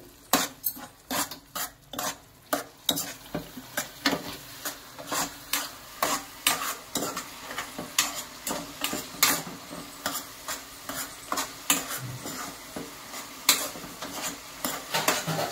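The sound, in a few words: stirring chilli powder into broad bean curry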